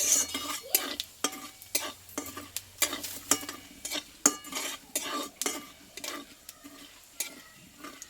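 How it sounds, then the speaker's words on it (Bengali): Whole cumin seeds and a dried red chilli fry in hot oil with a steady soft sizzle, while a spoon scrapes and stirs in frequent sharp clinks and taps against the pan. "এবার এই তেলে দেবো একটা শুকনো লঙ্কা আর দেবো হাফ চামচ মতো গোটা জিরে দিয়ে ফোড়নটা আমি একটু ভেজে নেব"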